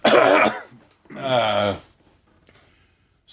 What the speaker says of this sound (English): you'll listen to two fat guys coughing